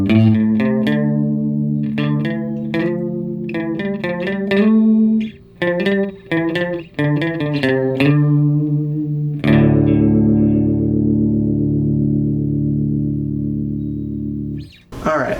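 A bass line played through a Sondery Chorus guitar pedal with all knobs at noon: plucked notes in a rhythmic run, then a long sustained note shimmering with a wavy chorus effect, loud and close.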